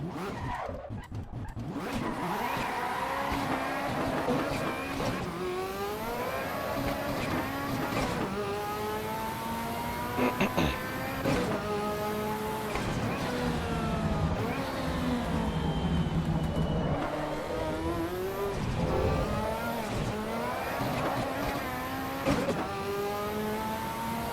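Race car drifting in the AC EVO driving game, with a sustained engine wail sweeping up and down under long, wavering tire squeal as the car slides, loud and close throughout, no talk.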